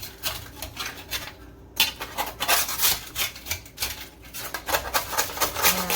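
Crispy chicken wings being scraped off a pan with a utensil, a steady series of dry, raspy scrapes in short repeated strokes, close and fairly loud.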